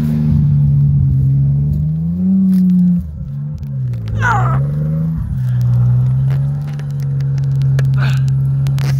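A BMW 730i abandoned for ten years runs loud and close after restarting, its engine hum rising and falling through a couple of revs, with a short clank in the middle.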